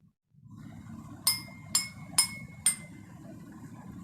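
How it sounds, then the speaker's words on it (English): Jal Tarang played on four glasses filled with different levels of water: four bright, ringing strikes in even succession, each fading quickly, over a soft background murmur. "Hasib has set up the Jal Tarang. He has taken 4 glasses"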